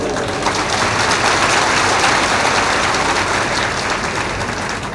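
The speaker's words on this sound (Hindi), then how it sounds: "थोड़ा जोर से भी ताली बजाया करो।" Satsang audience at a spiritual gathering clapping loudly, a dense, even burst of many hands that holds steady throughout with no talk over it.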